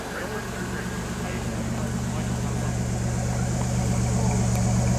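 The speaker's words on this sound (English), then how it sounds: "Look at a little exhaust note." A 1990 Buick Reatta convertible with a transverse fuel-injected engine idles steadily, a low, even exhaust hum holding constant and growing slightly louder, with someone speaking over it.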